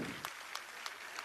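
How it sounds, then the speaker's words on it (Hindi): Sparse, slow clapping from an audience as a chief minister lights the ceremonial lamp at a World Disability Day event at Shakuntala University, Lucknow; a handful of distinct, evenly spaced claps, fairly faint and distant. "तालियों के माध्यम से अभिनंदन"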